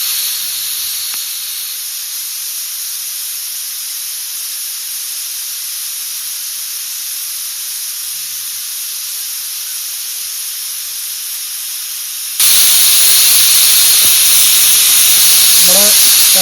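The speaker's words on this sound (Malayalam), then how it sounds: "നമ്മുടെ 2 വിസിലടിച്ചിട്ടുണ്ട്." A pressure cooker on a home stove releases steam as a constant high hiss that suddenly grows into a louder, harsher blast near the end; faint talk can be heard in the background.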